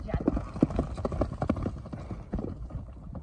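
Horse hooves clip-clopping at a steady trot on hard ground, a close, rhythmic series of sharp knocks, with a little background noise and no clear talk.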